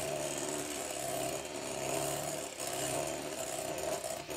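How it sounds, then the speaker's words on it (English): A sauce for a roulade is whisked in a pan, a steady close scraping and rubbing rhythm of the whisk against metal that continues without pause. "So we're gradually whisking that now."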